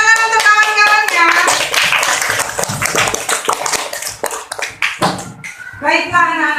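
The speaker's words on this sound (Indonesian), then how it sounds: "tepuk tangan untuk kawan-kawannya" Schoolchildren in a classroom clap their hands for classmates, bright rhythmic claps close by, mixed with children's voices and chatter, with someone speaking clearly at the end.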